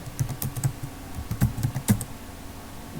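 Fingers type on a computer keyboard while logging in to LinkedIn: a quick irregular series of close, crisp key clicks with brief pauses, and no speech.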